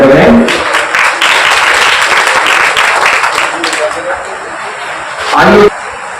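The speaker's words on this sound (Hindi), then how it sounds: "जोरदार तालियां बजाएं।" An audience applauds at a stationery distribution event for 1,000 needy students held by a social workers' council, with steady loud clapping that fills the room, mixed with some voices, before fading near the end.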